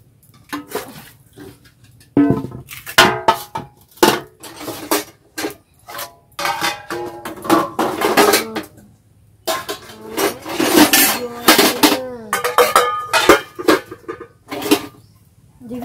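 Metal pots and utensils being handled and stacked: irregular clanks, scrapes and rattles, close and fairly loud, with quiet gaps between clusters of contact and a faint steady hum underneath.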